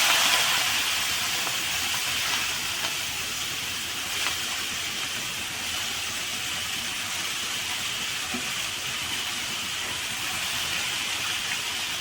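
Washed vaseti (dodi flower) greens dropping into a hot pan with turmeric, giving a steady, loud hiss and steam-like sizzle that runs continuously throughout without talk.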